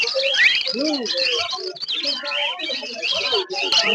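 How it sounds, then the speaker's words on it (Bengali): Lovebirds at an outdoor bird market chatter in a dense stream of high chirps and tweets, close and continuous, with a voice faintly mixed in. "এখানে এক পেয়ারের লাভবার্ড আছে"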